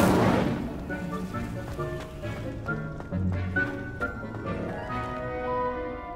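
Incendio fire spell cast in Hogwarts Legacy: a sharp whooshing burst opens, followed by crackling pops and low booms layered over a sustained musical score.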